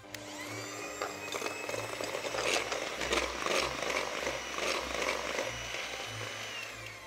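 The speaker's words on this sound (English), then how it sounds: "I'm just going to whisk it until it's really nice and creamy." An electric hand mixer's beaters whisk egg yolks with caster sugar in a bowl for cupcakes, a continuous close motorized whir with a rattling, scraping texture that swells and eases slightly throughout, without talk.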